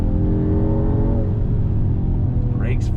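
Mercedes-AMG GT 43 sedan, 2021, accelerating on throttle through a right-hand bend, its engine a loud steady drone with rising harmonics throughout, heard from inside the cabin with a voice speaking over it.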